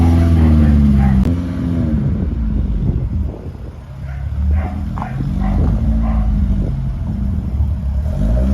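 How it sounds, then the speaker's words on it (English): A dog barks intermittently in the background, partly masked by nearby conversation and steady low-pitched noise. "Excuse the dog barking in the background."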